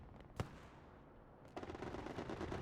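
In the WWII game Hell Let Loose, an aircraft's strafing run at Stalingrad opens with one sharp burst of gunfire, then after a pause a fast rattling stream of automatic fire, distant and fairly faint.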